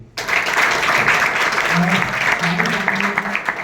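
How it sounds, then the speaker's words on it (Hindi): Audience applause at a youth mock parliament event: continuous dense clapping from a crowd, steady and fairly loud throughout, with faint voices mixed underneath. "परवेश जी की स्पेशल ताली हो जाएगी।"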